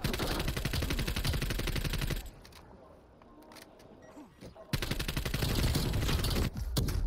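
Rapid pistol fire in Call of Duty Black Ops on the Nuketown map, a loud string of quick cracks that stops briefly and then resumes just as densely.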